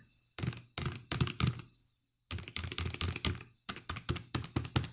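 Quiet DIY silent buttons on a mini arcade stick are pressed in quick clusters, each press a soft, low thud rather than a sharp clack, with pauses between bursts and no speech.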